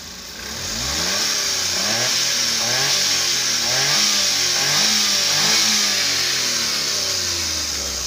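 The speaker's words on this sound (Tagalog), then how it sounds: "So i-rev natin kung may galit yung makina" A Daihatsu Multicab DA63T engine with a suspected throttle position sensor fault is revved hard and held at high RPM. It rises, wavers and stays loud and close for several seconds, with no talk over it.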